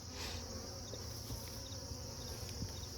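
Honeybees in a dying hive buzzing steadily and close, a dense continuous drone with no voices.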